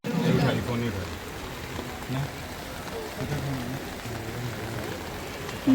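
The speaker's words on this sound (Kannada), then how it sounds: "ಮಳೆ ಸ್ಟಾರ್ಟ್ ಆಯ್ತು." Rain starting to fall outdoors at a wedding reception, a steady patter on surfaces beneath scattered voices and crowd noise, fairly close and continuous.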